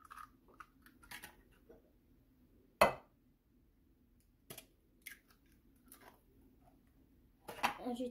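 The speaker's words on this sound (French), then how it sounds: "Ok, maintenant, on va casser les œufs." Eggs cracked for a potato and cauliflower recipe: a few sharp, isolated cracks and taps against a bowl, one loud near knock followed by softer clicks, with quiet kitchen handling in between.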